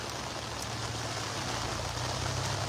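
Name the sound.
heavy rain in New Amsterdam, Berbice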